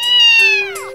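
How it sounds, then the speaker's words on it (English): A single loud, clear cat meow from a children's alphabet learning app, about one second long, with a falling pitch at the end. "C is for cat."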